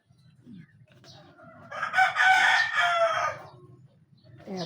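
A rooster crows once, loud and close, over a backdrop of chickens clucking and murmuring in a yard, with more clucks starting again at the end.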